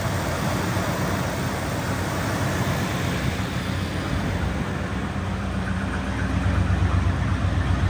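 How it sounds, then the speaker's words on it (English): The V8 of a 1974 Plymouth Road Runner GTX with a dual exhaust idles smoothly, a continuous close rumble with no pauses or revving and no voices. "Nice, easy start every time. Real smooth running V8."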